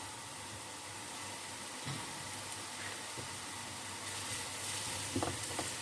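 Ginger-garlic paste sizzling in a pan with frying onions for a masala fish curry: a soft, continuous hiss at low volume, with a few faint stirring scrapes that grow slightly busier near the end.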